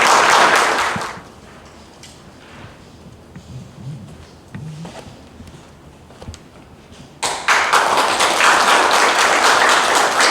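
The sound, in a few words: audience applause welcoming a speaker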